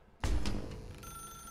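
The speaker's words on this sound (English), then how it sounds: "Now pick up the phone," A telephone rings in the video game The Stanley Parable: Ultra Deluxe, a sudden loud bell burst that settles into a sustained ringing tone, heard alone without talk.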